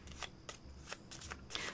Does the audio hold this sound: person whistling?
no